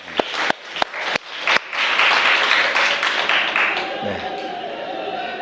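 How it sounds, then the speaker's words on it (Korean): A church congregation breaks into applause after a youth wins a judo match with a hip throw: a few sharp separate claps first, then a dense burst of clapping that gradually fades as voices come through. "박수"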